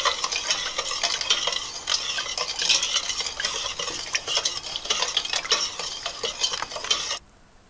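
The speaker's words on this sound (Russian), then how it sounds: "И все тщательно перемешиваем." A spoon steadily stirs and scrapes through a salted pepper marinade in a pot, continuous and close, then it stops abruptly near the end.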